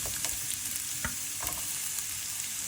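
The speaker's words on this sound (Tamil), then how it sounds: "கொஞ்சம் நல்லெண்ணெய் எடுத்து வெங்காயத்தை போட்டு வதக்குவோம்." Onions sautéing in sesame oil, with a steady close sizzle and a few soft stirring knocks and scrapes of a spoon against the pan.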